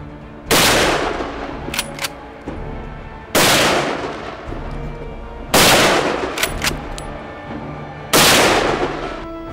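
Rifle shots ring out at a shooting range, four loud, close reports evenly spaced a few seconds apart, each with a long echoing decay and faint clicks between.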